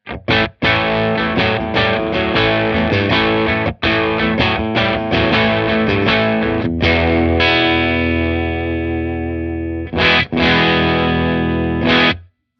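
An electric guitar on its bridge pickup runs through a Bad Cat Black Cat 30 amp with distortion. It plays punchy chopped chords and riffs, then rings out in a long sustained chord before a few final stabs that cut to silence.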